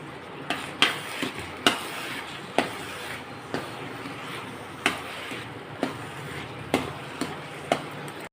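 A spoon stirs and scrapes in a metal vessel while fresh cream is mixed with cardamom powder for a homemade sweet, giving regular, evenly spaced clinks and knocks against a steady low background hum.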